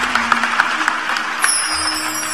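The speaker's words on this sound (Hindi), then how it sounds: "अब बजाइए ताली" Scattered handclaps ripple through an audience at a Hindu spiritual discourse on Hanuman, irregular and fairly light over a low steady hum, with no clear voices.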